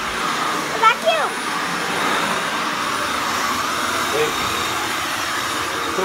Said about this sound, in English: So we're gonna be sucking up the Daddy Longlegs.